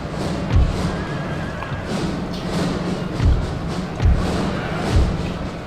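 Cavalry horses charging in the video game Napoleon: Total War (Darthmod), heard as heavy low hoof thuds landing roughly once a second over a constant battle din, with no talking.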